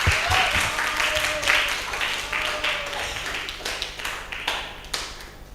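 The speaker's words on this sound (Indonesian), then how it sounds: "Oke, kita berikan aplaus untuk kita semua." A class of students applauds together in a classroom, a dense run of overlapping claps that carries steadily for several seconds with some voices mixed in.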